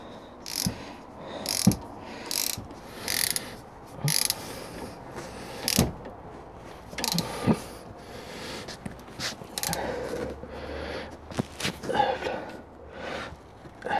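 Wrench tightening the brake caliper bolts on a Citroën C3 1.4 during a front disc and pad replacement, giving repeated short ratcheting and metallic clicks in bursts, close and fairly loud, with no talk over them.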